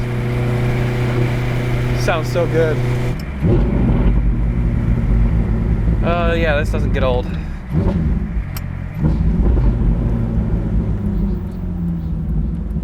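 A Ferrari with a gated manual gearbox roars through loud, rising and falling engine revs with rapid downshift blips, close and continuous, while people talk excitedly over it.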